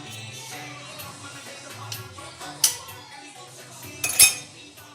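A spoon stirs peanut butter into cupcake batter in a bowl, giving soft scraping with a few sharp clinks against the bowl near the end, close and moderately loud.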